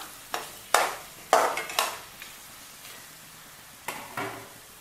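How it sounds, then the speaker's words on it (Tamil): Mutton deep-fries in a pan, with a soft sizzle under several sharp scraping stirs of a spoon that come in bursts with short pauses between them. "இப்போ அஞ்சு நிமிஷம் ஆயிடுச்சு நல்லா டீப் ஃப்ரை ஆயிடுச்சு"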